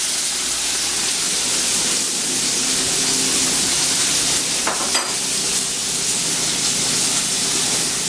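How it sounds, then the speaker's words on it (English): Butter sizzling in a pan on medium heat while chicken Alfredo is made, a steady close hiss throughout with a brief louder crackle burst midway. "now we reduce the heat to medium and add 6 more tablespoons of butter"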